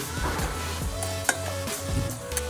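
Mustard seeds tempering in hot oil for a crisp thin poha chivda, a soft crackly sizzle with a spoon stirring and scraping against the pan, and a few sharp pops and taps.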